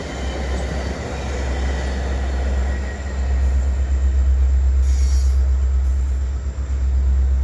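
A Via passenger train with older cars passes close by at Dorval, giving a loud, steady roar of rolling wheels and rail noise with faint squeals and no voices.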